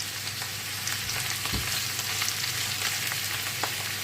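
Cabbage fries in hot oil while being stirred, a continuous close sizzle with a soft thump and occasional scraping of the utensil.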